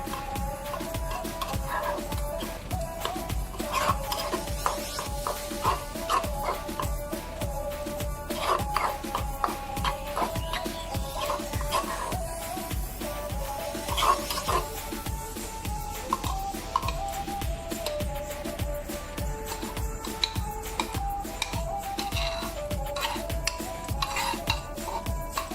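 A spoon stirs and mixes garlic chutney in a bowl, clinking repeatedly against the dish in a quick steady rhythm, close and fairly loud with no talking.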